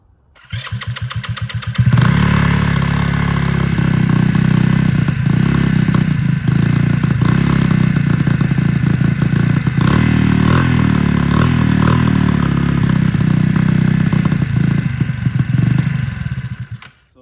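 A GY6 150cc scooter engine with a new carbon custom air intake runs steadily and loudly close by, a continuous droning idle with slight revving variations after it catches, alone without talk.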